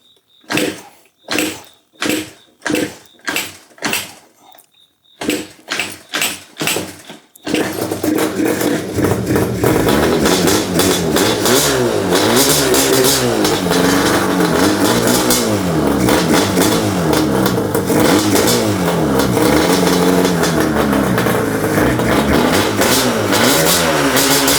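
A Yamaha Banshee on 93 pump gas coughs through a series of sharp, evenly spaced starting bursts, then fires up and runs loud and close with continuous revving and engine roar.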